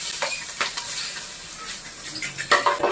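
Onions sauté in a hot pan for Filipino sinigang, a steady close sizzle broken by scraping strokes of a spoon stirring through the pan.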